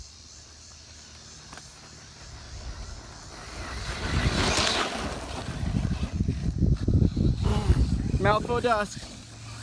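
A Traxxas Slash RC truck on an ATV track rises from faint to loud as it passes close by, a whining motor buzz with wind noise, and someone speaks briefly over the pass.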